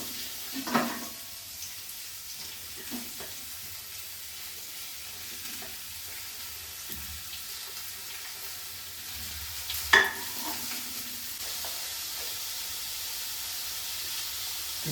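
Sliced onions frying in a pan give a soft, steady sizzle close by, with a few sharper stirring knocks near the start and around the middle, and no talking.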